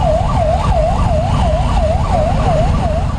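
An ambulance siren wails in a steady, rapid rising-and-falling pattern, loud and close, while the vehicle sits stuck in traffic congestion during a street election campaign in Cuddalore, with engine rumble underneath.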